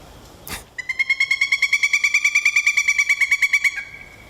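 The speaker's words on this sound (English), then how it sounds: "How fresh are you on the Pileated WoodPecker call?" A loud, rapid series of piercing, evenly spaced calls, a pileated woodpecker's ringing cackle, rising slightly then fading, heard alone after a brief noise burst.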